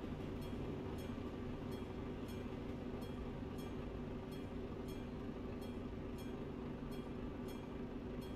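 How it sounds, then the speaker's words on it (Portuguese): A train passes in Euro Truck Simulator 2, a steady rumbling rail roar with faint rhythmic clicks of wheels on track, continuous and fairly distant, with no voices. "Lá vai o trem."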